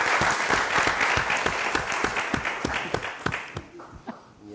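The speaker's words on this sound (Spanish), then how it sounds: "Un aplauso, por favor, para nuestra invitada," An audience applauds a guest named Ana Sujetti at a talk about nature and the future, a dense wash of clapping that thins out toward the end, with a few sharper individual claps standing out.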